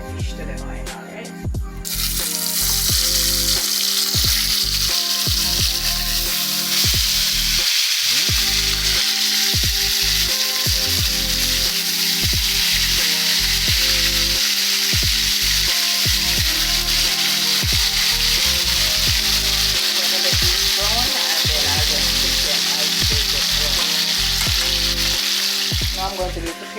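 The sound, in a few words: sliced fish frying in oil with garlic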